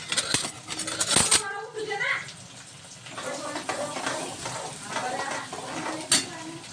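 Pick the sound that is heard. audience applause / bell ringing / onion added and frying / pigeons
onion added and frying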